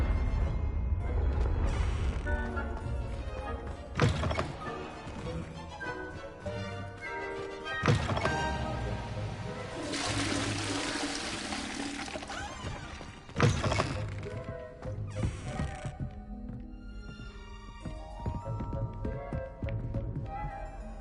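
A Confringo blasting spell is cast in Hogwarts Legacy amid busy combat, with several sharp thunks and whacking impacts standing out over a dense layer of game music and effects.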